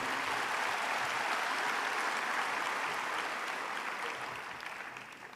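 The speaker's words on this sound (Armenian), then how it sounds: "Եկեք եւս մեկ անգամ ծափահարենք մեր լավ ընկերոջը Իշխան Սաղաթելյանին։" An audience at a political party meeting applauds in a sustained wash of clapping that holds steady, then slowly fades near the end, heard from within the hall with no voices over it.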